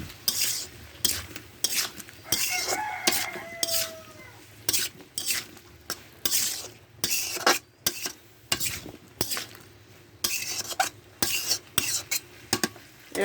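Potatoes and raw plantain are stirred and sautéed in a pan: repeated close scraping strokes of a spoon against the metal pan in an uneven rhythm over a low background sizzle, with no talking.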